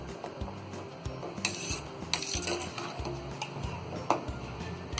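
Mawa is stirred into phirni in a pot, with a spoon scraping and clinking against the metal in an irregular rhythm, close and moderately loud under a faint background hum.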